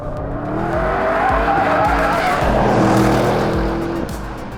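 Audi RS6 Performance V8 engine and exhaust roaring loudly under hard acceleration, with rising revs and sharp gear-change steps, heard from inside the luxury car.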